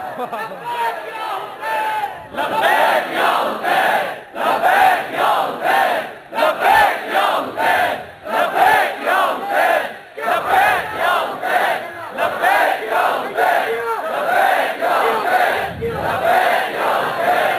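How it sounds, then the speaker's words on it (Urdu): Crowd at a Shia majlis chanting religious slogans together in loud, rhythmic bursts of collective shouting, roughly every second or two, close and filling the room. "ارے الگ الگ کیوں لگا رہے ہو, اکٹھے نعرے لگاؤ نا"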